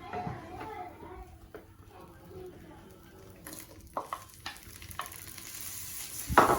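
Onion goes into a pan and fries with a gentle sizzle, with scattered stirring scrapes and clinks of utensils. A voice is heard faintly at moments.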